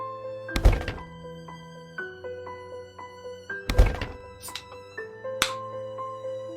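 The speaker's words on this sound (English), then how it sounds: "Destroy the stairs." Two heavy wooden thunks from stairs being destroyed in the survival video game Project Zomboid, a few seconds apart and loud, with softer knocks between them over a steady synth music bed.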